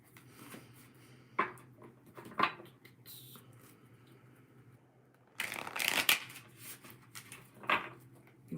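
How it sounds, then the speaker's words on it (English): Tarot cards are shuffled in several separate bursts of riffling and flicking, close to the ear, with quiet pauses and a low hum between them. "let's shuffle the cards"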